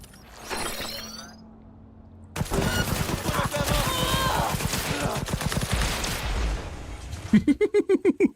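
Smart weapons firing in Cyberpunk 2077 Phantom Liberty, a dense rapid burst of shots and impacts for several seconds, ending in a quick evenly spaced series of sharp blasts.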